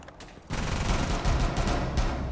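Gunfire in a shooter video game, a dense burst of rapid shots starting abruptly and continuing as a loud, close rattling volley with a heavier surge midway.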